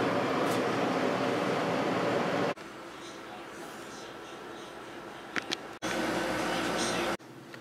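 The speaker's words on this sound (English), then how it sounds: "now we have the air conditioning running" A 240 volt household air conditioner runs as a steady low hum and whoosh, stopping and restarting in distinct segments, with light clicks and faint background noise.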